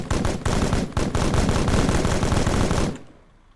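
Sustained automatic gunfire in Arma 3 from passengers turned out of a Danish Defense Forces vehicle: a loud, dense, rapid stream of shots for about three seconds, then stopping abruptly into a fading tail.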